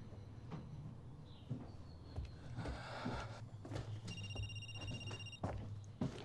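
A telephone rings indoors in a quiet room, a few electronic bell-like trills under faint background clatter, with no one speaking.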